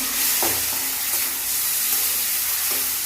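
Chopped tomatoes frying with browned onion in a pan for masala dosa filling, a loud continuous sizzle and hiss with a few soft spoon scrapes through it, close by.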